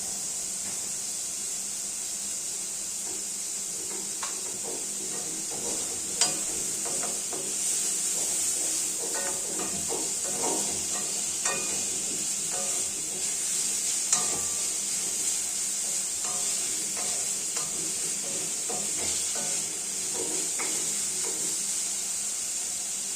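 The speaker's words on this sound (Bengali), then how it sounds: "গাজরগুলো ভালোভাবে ভাজা হয়ে গেলে সেটা আমরা একটা পাত্রে তুলে নেব" Carrots stir-frying in a pan for a special mixed fried rice, a steady bright sizzle with frequent scraping and stirring clicks from a utensil, close and continuous with no talking.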